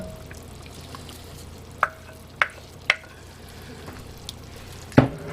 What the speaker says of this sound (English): I am going to add butter to each pot.